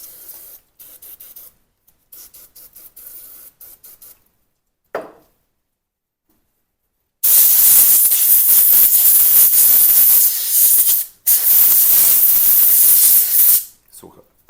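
Compressed air from a spray can blasting through a CZ 75B pistol during cleaning: two long, loud, steady hissing bursts, close up, separated by a brief pause, after quieter handling and rubbing sounds.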